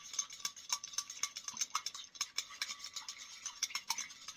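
A spoon stirs chocolate cereal in whole milk in a bowl, giving quick, close clinks and wet swishes against the bowl in an irregular rhythm, with no talk.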